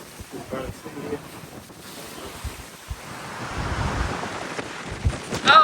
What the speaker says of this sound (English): Oh my gosh, it's so windy.